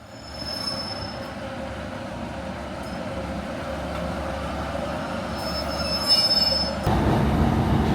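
Train arriving at a station on the East Coast Main Line near Morpeth, its wheels squealing in high sustained tones over a rumbling roll that grows louder as it pulls in.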